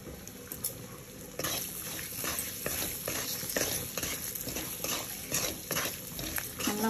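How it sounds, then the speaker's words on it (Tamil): Egg masala being stir-fried in a pan gives a steady soft sizzle under repeated scraping and stirring strokes, close and fairly quiet, with no voices. "நல்லா வதக்குங்க."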